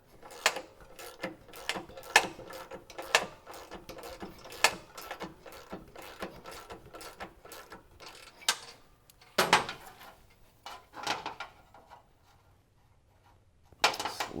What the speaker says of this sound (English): we're going to raise her up by turning this bolt in